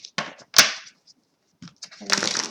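Cards riffle and snap in short papery bursts, with a pause before a longer ruffling shuffle, close by.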